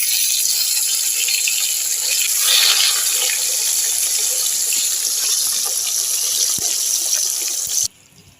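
Fish frying in a pan of hot oil, a loud, dense sizzle with a few crackles and a brief surge as it is flipped, ending abruptly.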